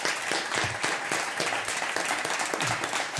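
A television studio audience applauds a game show contestant, a dense, loud, continuous clapping throughout.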